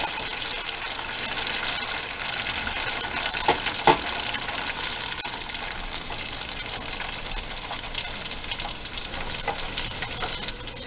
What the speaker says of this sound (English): let's get them in the deep fryer and see how they look